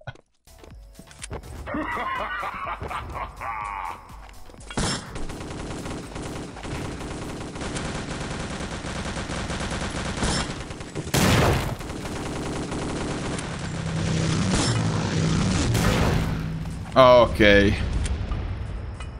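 Gunfire and explosions in the Wolfenstein: Enemy Territory video game: repeated sharp gunshots and blasts crack through the clip, with several loud bursts and clustered shots, while someone talks over much of the action.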